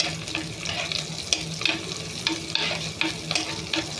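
Mango pieces sautéing in a pan for Kerala-style fish curry, a steady sizzle broken by repeated scrapes and knocks of a stirring spoon against the pan, close and fairly loud with no voices.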